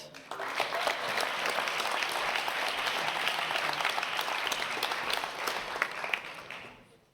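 Sustained applause from a graduation ceremony crowd for internal medicine resident graduates, a dense steady wash of clapping lasting several seconds before tapering off, with some voices mixed in.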